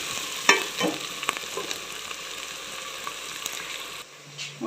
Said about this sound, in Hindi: तो अब इनको मिक्स करती हूँ अच्छी तरह, टमाटर मिर्च